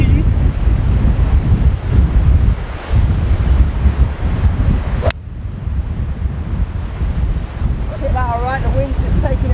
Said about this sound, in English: you've got to allow for the very strong wind